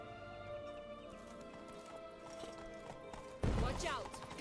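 Hooves of Roach, Geralt's horse in The Witcher 3, clip-clop in a steady rhythm under game music, followed by a sudden louder burst near the end.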